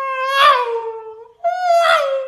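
A human voice mimics an F1 racing car passing a circuit grandstand, two rising-then-falling whining swoops with a short gap between them, loud and close.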